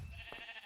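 A single short sheep bleat from inside a fantasy dungeon-crawling video game, faint and brief against a steady hum of game background sound.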